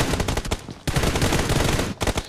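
Dense automatic gunfire during a Free Fire tournament match, loud rapid bursts of shots with a brief gap between volleys, close and aggressive.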